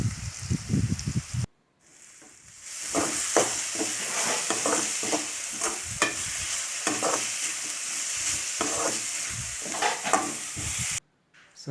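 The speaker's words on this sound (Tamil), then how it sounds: "சேர்த்து நல்லா கிளறி விடுங்க." Vegetables for masala rice are stirred with mint and coriander in a hot pan, giving a sizzling fry with repeated scraping and rustling strokes and two short pauses.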